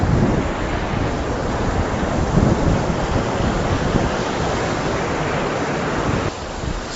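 Steady rush of a waterfall outdoors on a sunny day with a light breeze, a dense, continuous broadband roar holding level throughout with no voices.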